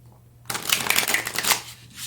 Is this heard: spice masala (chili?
no